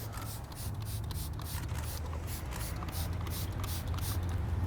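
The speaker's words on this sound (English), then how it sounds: "simply spray it on the surface" A steady hiss of waterless car wash spraying from a bottle onto a car door, with faint repeated pump bursts, close by and continuous throughout.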